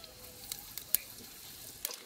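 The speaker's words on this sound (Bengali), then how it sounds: "তেল গরম হয়ে গেছে, তেলে দিয়ে দেব গোটা গরম মশলা, গোটা জিরে" Whole garam masala and cumin seeds sizzle in hot mustard oil, a bright crackling hiss with scattered sharp pops, close and steady.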